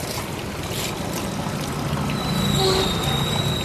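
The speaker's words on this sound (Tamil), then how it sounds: "பாருங்கள் எப்படி வடிக்கிறாரு பாருங்கள். தண்ணி உங்களுக்கு வடிகிறது தெரியும்." Cooked rice for a no-masala beef biryani being drained, with water pouring and trickling steadily off the grains at close range, a soft continuous wash that swells slightly toward the end.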